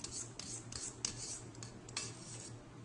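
A spatula scrapes chocolate chip cookie dough down the sides of a mixing bowl in close, soft rasping strokes, about six evenly spaced passes.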